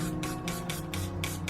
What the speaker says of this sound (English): I think I will spray that down with some